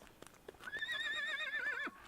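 A riding horse neighs in a long wavering whinny, preceded by a few soft hoof clops, fairly close in an otherwise quiet rural setting.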